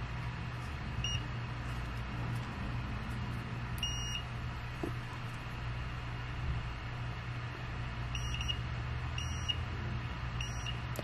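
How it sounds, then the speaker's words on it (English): Multimeter continuity tester beeping while probing connections on a USB flash drive board: five brief, sharp beeps at irregular intervals over a low, steady background hum. "let's pull up a multimeter and test it"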